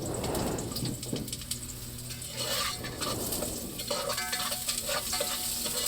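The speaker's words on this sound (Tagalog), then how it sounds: "ginisa ko na nga po ang sibuyas at bawang" Onion and garlic sautéing in a hot pan for ginataang kalabasa, giving a steady, close frying sizzle broken by stirring scrapes and clatter, with no talk.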